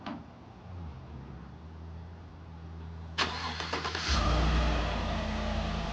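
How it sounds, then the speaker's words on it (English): Stock truck cold-started by remote: a cranking whir, then the engine catches and settles into a loud, deep idle, close by with no talk. "let's start the truck and see what it sounds like stock"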